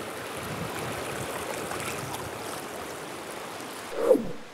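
Glacial meltwater torrent laden with fine glacial flour, a continuous steady rushing of water at moderate distance, with a brief soft knock near the end.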